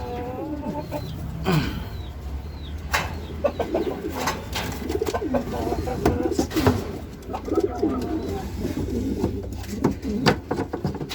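Racing pigeons in their loft after a hard race, coo and flutter close by in a dense, overlapping chorus, with soft bird calls and some clucking mixed in.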